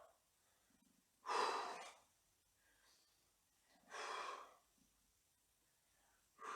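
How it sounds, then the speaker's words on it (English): A person exhales hard while standing up from squats in a workout, three strong breathy whooshes spaced a few seconds apart, close to the mic with near silence between them. "Breathe out as I stand up."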